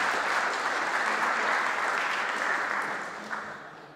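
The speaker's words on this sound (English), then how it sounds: "have a round of applause." Conference audience at OSFC 2018 applauds after a coreboot talk, a full round of clapping from many people that holds steady and then fades away near the end.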